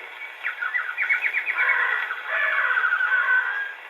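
A voice imitates birdsong with quick chirping trills and warbles, bright and close, continuing for a few seconds.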